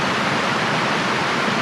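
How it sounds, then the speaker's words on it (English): A creek on Vancouver Island swollen after two to three days of torrential downpour rushes past in a continuous, dense roar of water, loud and unbroken. "the creeks and rivers carry water again"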